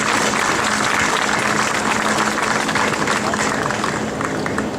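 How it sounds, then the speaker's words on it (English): A crowd at the Columbus–Fort Benning centennial celebration in Columbus, Georgia, claps loudly and steadily for the whole stretch. The applause is dense and even, with no voices standing out. "let's give them a round of applause"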